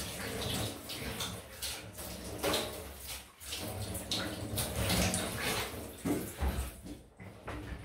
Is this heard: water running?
yes